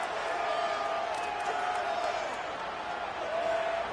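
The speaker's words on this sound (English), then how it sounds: "The Tide crowd rolling noise down onto Saban Field on third down." A dense stadium crowd in the video game EA NCAA College Football roars continuously on third down at Alabama's Saban Field, a steady wash of many voices with faint scattered shouts, loud and unbroken.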